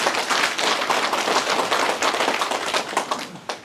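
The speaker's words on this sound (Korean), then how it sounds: "그럼 더 큰 박수 한번 쳐주세요" A crowd of elderly residents and officials at a county administration briefing claps together, a fast dense patter of many hands at steady volume, close by, with no speech over it.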